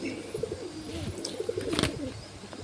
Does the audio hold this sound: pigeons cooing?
yes